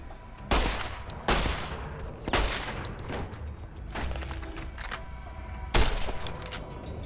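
Video game gunshots ring out in Primm, several loud, sharp reports spaced unevenly over a rumbling background, with no voices heard.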